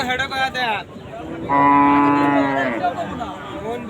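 Cattle at a busy cattle market, with a cow giving a long, loud, close moo after a shorter lowing call, over background crowd noise.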